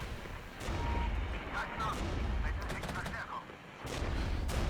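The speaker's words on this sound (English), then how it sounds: "let's use our first artillery barrage here" Artillery barrage in the video game Regiments, a dense run of booms and gunfire crackle with sharp blasts scattered over a continuous rumbling bed of battle noise, fairly loud throughout.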